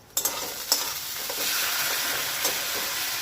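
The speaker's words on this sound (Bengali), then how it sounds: "এবারে এই সমস্ত মশলাটা খুব ভালো করে কষাবো" Spice masala with a little sauce stir-fried in oil for a spicy egg curry makes a loud, even hiss and sizzle, opening with a few sharp clatters of the spoon against the pan.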